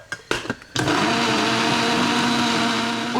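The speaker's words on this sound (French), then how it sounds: "je vais utiliser à nouveau mon petit mixeur de tout à l'heure" A small blender whirs up coriander with coconut milk, starting with a few short pulses before settling into a steady, loud, close motor drone.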